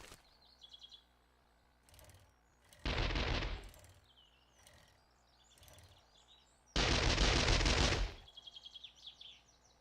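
Gunfire from a survivor shooting in 7 Days to Die comes as two sustained, fairly loud bursts several seconds apart, with chirping birds audible in the quieter stretches around them.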